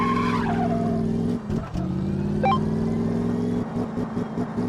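A muscle car in the game Car Mechanic Simulator 2015 makes a quarter-mile run, its engine droning loudly and steadily with a brief dip and a tire-squeal-like chirp partway through, continuous with no talk.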